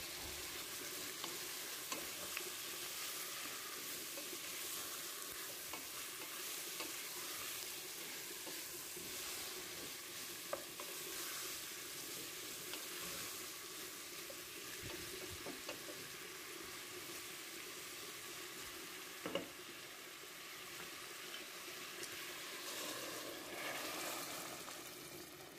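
Spices simmering in olive oil on medium heat, a faint steady sizzle and crackle with occasional soft stirring clicks, continuous throughout with no talk.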